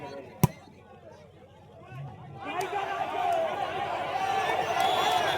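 Audience at a village volleyball match breaking into applause, the clapping rising after a sharp early crack and building into a sustained crowd din mixed with chatter.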